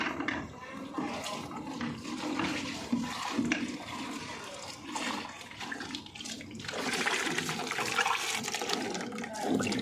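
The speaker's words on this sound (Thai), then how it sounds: "เดี๋ยวเราจะลองใส่น้ำนะครับ" Tap water runs steadily into a guppy fish tank fitted with an overflow pipe, a continuous pouring and splashing wash that holds for the whole stretch and swells louder near the end.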